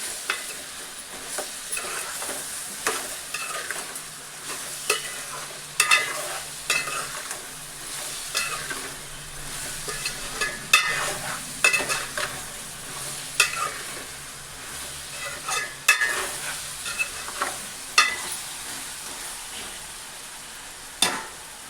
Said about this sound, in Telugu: ఇప్పుడు కొద్దిగా అల్లం వెల్లుల్లి పేస్ట్ కూడా వేసుకుంటున్నాను చాలా బాగా కలుపుకోవాలి